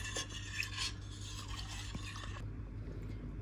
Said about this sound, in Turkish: Ilık olan sütümüze 1 tatlı kaşığı peynir mayası ekliyoruz ve karıştırıyoruz